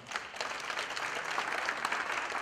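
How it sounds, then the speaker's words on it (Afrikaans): Church congregation applauds the orchestra after a sermon, a soft, even patter of many hands clapping that stays steady throughout, somewhat distant and without speech. "Gee die orkes so lekker aan 'n klap."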